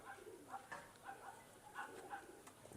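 Record-holder racing pigeons at a loft cooing in soft, low bursts that repeat every half second or so. The calls are faint and close, over a steady background hiss.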